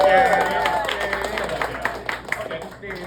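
Steady clapping from a stand-up comedy audience fills the space, a dense applause that holds throughout and fades slightly toward the end.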